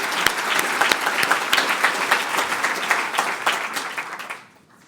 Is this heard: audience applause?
yes